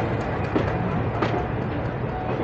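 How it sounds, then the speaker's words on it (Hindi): An ALCO diesel locomotive in India rumbles past loud and close, a dense continuous roar of engine and rolling wheels with faint rhythmic rail clatter throughout. "एल्को लोकोमोटिव।"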